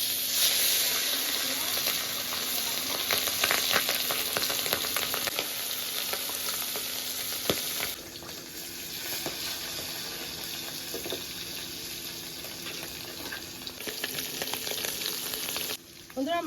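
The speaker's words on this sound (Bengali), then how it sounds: "আর মাছগুলো এক এক করে ভেজে নেব।" Pieces of rohu fish fry in hot oil, giving a steady, dense sizzle that continues throughout, with occasional clinks and water-like crackles layered on top and no talking.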